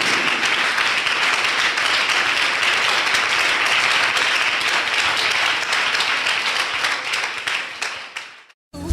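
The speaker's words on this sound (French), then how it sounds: "Give the Lord a big clap" A church congregation at an evangelical service breaks into loud, sustained applause that holds steady for several seconds, then fades and cuts off abruptly near the end.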